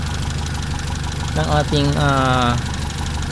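A car engine runs at a steady idle with Bosch Platinum spark plugs fitted, a low continuous hum that carries under someone talking nearby.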